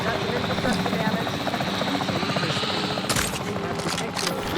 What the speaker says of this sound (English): Helicopter taking damage.